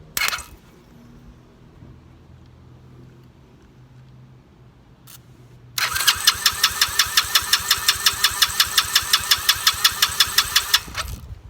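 A quad engine's starter motor cranking, a loud close whir with a rapid, even pulsing beat that runs for about five seconds after a quiet stretch, then cuts off.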